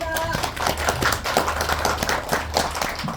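Audience applause at a Korean People Power Party political gathering, a dense round of clapping at steady volume with a faint voice at the very beginning.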